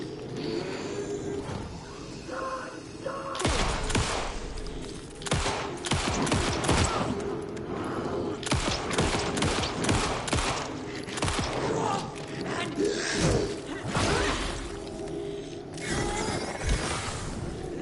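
A new gun fired in the video game Alan Wake 2, sharp gunshots going off in rapid irregular bursts close by, mixed with mechanical clacks and rattles of handling, with no talking.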